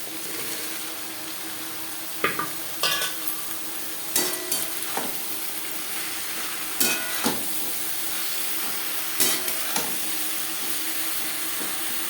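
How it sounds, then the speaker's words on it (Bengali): Cut eggplant pieces being stirred into fish oil in a pan make a soft continuous sizzle, broken by several sharp scrapes and knocks of a spatula at uneven intervals; no talking. "মাছের তেলের সাথে বেগুন বেশ ভালো করে মিক্স করে দেবো।"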